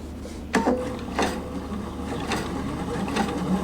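Sewing machine slowly sewing long stitches on fabric, with a few distinct mechanical clunks and ratchety needle strokes at an unhurried, uneven pace over a low hum, close by.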